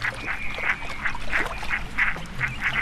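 Red-breasted mergansers calling on Lake Constance, a repeated harsh quacking bursting out roughly every third of a second over a dense, busy background of other waterfowl.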